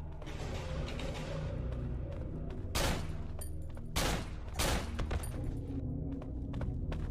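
Gunfire in the horror video game Cry of Fear: a few sharp, loud shots burst out over a steady droning game ambience, spaced a second or so apart.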